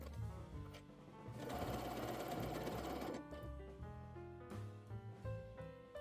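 A sewing machine zigzag-stitches the center back seam of a knit dress, running in a steady, continuous whir with a louder stretch of fast stitching in the middle, alone and close by.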